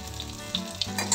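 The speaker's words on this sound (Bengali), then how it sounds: "উচ্ছেটা ভাজা হোক ধীরে ধীরে" Bitter gourd pieces fry in a pan over high-to-medium heat, giving a short, steady sizzle with small crackles and pops and no voices.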